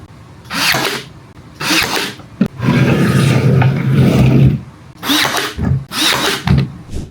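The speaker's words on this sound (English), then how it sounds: "Now I'm going to sand one more time" Loud close power sanding of a wooden vintage frame, several bursts of whirring abrasion separated by short pauses, with a longer continuous pass in the middle.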